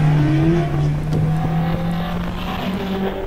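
Peugeot 205 GTI racing up a hillclimb course, its engine holding a loud, steady tone close by with slight pitch shifts through the run.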